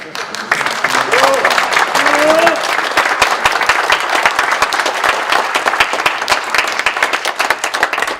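An assembly at a church presbytery meeting in Seoul breaks into sustained applause, dense clapping filling the hall for about eight seconds, with a few voices briefly rising over it near the start.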